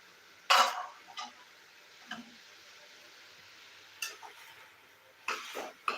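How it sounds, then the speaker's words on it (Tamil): Tomatoes with salt and turmeric sautéing in a pan for village-style egg curry, scattered spoon scrapes and clinks against the pan over a faint background sizzle, with quiet gaps between strokes. "தக்காளி வந்து நல்லா வதங்கணும் வதங்க விடுங்க"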